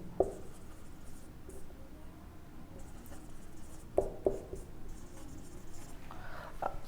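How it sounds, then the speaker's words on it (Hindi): A pen scratches across paper while someone works through a Class 10 trigonometry proof. The strokes are faint and close, with a few short, sharper ticks against a quiet background and no talking. "तो मैं लिख देता हूँ"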